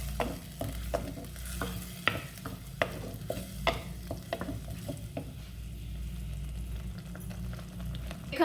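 Spices being stirred into mutton and potato keema frying in a pan: a steady sizzle with repeated sharp scraping strokes of the spoon, close and fairly loud, with no talking.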